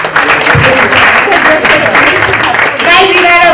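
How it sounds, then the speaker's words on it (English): A crowd at the launch of someone's book WET, attended by a celebrity, claps for Ika: loud, dense applause sustained throughout, with voices mixed into the noise. "Everyone clap for Ika."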